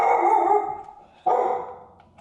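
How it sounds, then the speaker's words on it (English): A pet dog barks at passersby indoors, two loud yelping barks separated by a short pause, close to the microphone, with no talking. "He barks at passersby."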